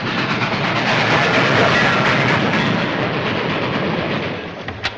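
A train rolls along the rails, a loud, dense rumble with rattling wagons and a broad roar that sustains and then eases slightly near the end.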